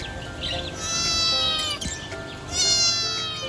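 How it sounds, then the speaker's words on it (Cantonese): A small kitten in a pet shop at the Futian agricultural wholesale market in Shenzhen gives two clear, drawn-out meows close by, over a steady background murmur of the market. "呢間有細貓仔喎"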